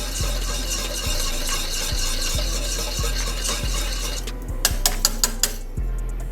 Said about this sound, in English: Remember to constantly stir it.